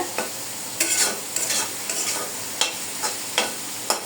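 Sizzling in a pan with repeated scraping stirs at an irregular rhythm as jute leaves are tossed; no voices, close and steady.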